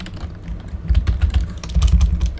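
Rapid typing on a computer keyboard while writing Unity game code gives dense, close clattering keystrokes that build into steady bursts, with no voice over them.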